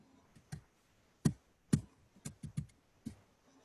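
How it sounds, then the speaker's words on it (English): Keys clatter on a computer keyboard picked up by an open microphone during a board meeting, a quiet, irregular run of sharp taps and clicks with gaps between them. "I can't hear Buck over the sound of typing"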